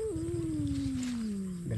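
A cat gives one long, drawn-out meow that glides slowly downward, close and fairly loud, with a short harsher rise at the very end. It is outdoors in a garden patch where cucumbers are being harvested.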